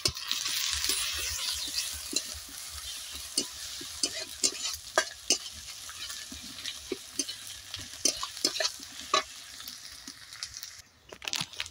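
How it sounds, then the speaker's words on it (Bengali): Chopped onion browning in oil with garlic paste for a fish-head and greens dish, with a steady close sizzle and many quick spatula scrapes and clicks that fade slightly toward the end. "পেঁয়াজটা আমি একটু ভেজে নেব লাল লাল করে। দিয়ে দিচ্ছি রসুন বাটা,"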